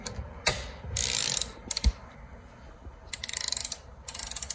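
A socket ratchet clicks in quick bursts as it turns over a Honda Fit engine during a valve adjustment, with several rapid pawl-clicking runs separated by pauses and a single knock, close and clear with no talking.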